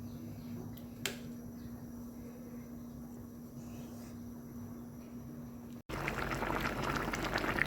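A pot of coconut curry with pork bones and bamboo shoots simmers at a low, steady boil, a faint bubbling hiss with a soft tick, then grows louder and rougher near the end.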